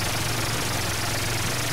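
Steady, close idle of a Honda Twister motorcycle engine, a continuous low rumbling drone with no change in pace and no one speaking.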